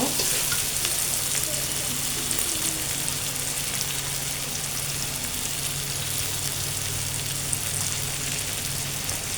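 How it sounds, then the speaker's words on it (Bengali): Hilsa fish frying in a pan with eggplant, a loud steady close sizzle and crackle with a few light stirring sounds, no voices. "এর মধ্যে আমি এখন মাছটা দিয়ে দিব"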